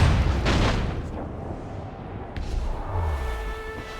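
Naval cannon fire booms from a ship battle in Assassin's Creed Rogue, a loud heavy blast at the start that rumbles out, then a second sharp crack and low boom a few seconds later amid sea and ship ambience.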